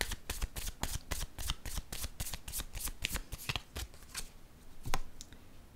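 Deck of tarot cards being shuffled close up, a quick run of crisp riffling flutters and slaps that slows into a few scattered taps, quiet and without talk.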